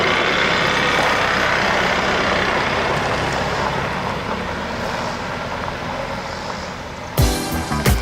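A Cummins 2.8 liter diesel in a prototype Nissan Frontier pickup makes a steady low rumble, loud and continuous, easing slightly before a brief burst of rattling noise near the end.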